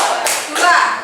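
A classroom group clapping in a counted pattern during an arts lesson icebreaker, two distinct sharp collective claps spaced apart, fairly loud and near.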